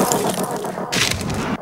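An untreated cinder block shatters as it strikes the ground after a drop, a loud crash with a burst of broken masonry and debris that peaks midway and cuts off abruptly at the end.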